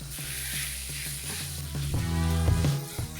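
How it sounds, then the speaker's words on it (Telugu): Fenugreek leaves frying with ginger garlic paste in a pan for spicy chicken curry, a steady close sizzle with faint scraping stirs, growing slightly louder midway. "ఒకటిన్నర టీ స్పూన్ అయినా అల్లం వెల్లుల్లి పేస్ట్ మనం ముందుగా కడిగి పెట్టిన మెంతి కూర వేసుకుంటున్నామండి"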